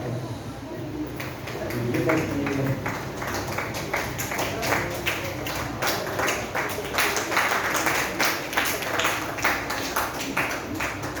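An audience at a school drama event claps loudly in welcome for a guest, a dense sustained burst of applause that swells after the first second and continues throughout.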